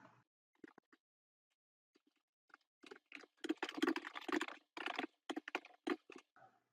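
Typing on a computer keyboard, a few scattered key taps that build into a fast, busy burst of close, crisp keystrokes before tapering off into silence.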